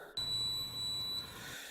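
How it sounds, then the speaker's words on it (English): A multimeter set to continuity gives a single sustained high-pitched beep, starting abruptly and holding for about a second before cutting off, close and clear in a quiet room. "I'm going to set this to the alarm. It's going to make a sound if you touch these together."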